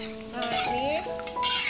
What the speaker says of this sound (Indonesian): Kita goreng pastelnya sampai kuning kecoklatan ya guys ya.